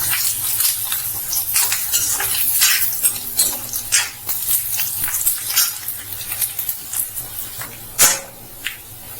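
Onions fry in a pan for a chole dish, with soft sizzling under repeated scraping and stirring of a utensil against the pan, including a sharper clank near the end.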